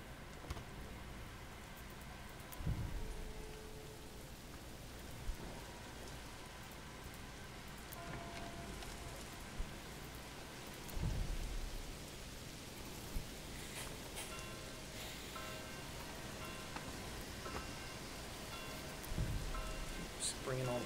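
Steady rain from a thunderstorm in the medieval city-builder Manor Lords, a soft even patter throughout, with occasional low thumps and faint pops scattered over twenty seconds.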